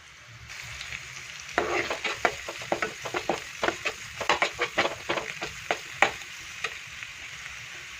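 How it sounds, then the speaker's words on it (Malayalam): Chili powder and turmeric frying in a pan, with a steady sizzle broken by repeated scraping stirs, close and fairly loud, no voices. "മുളക് പൊടിയൊക്കെ നന്നായിട്ട് മൂത്ത് വന്നിട്ടുണ്ട്"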